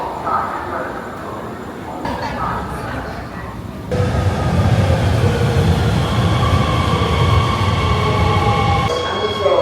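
A Harbin metro subway train rolls along, starting quiet and then swelling into a loud, steady rumble with rail hum and faint squeal, heard from inside the carriage.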